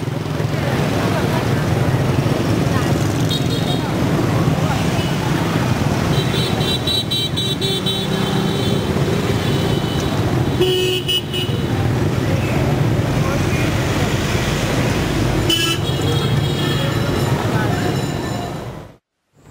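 Dense, steady street traffic in Vietnam with engines droning and a few horn toots, a constant roar of vehicles passing close by.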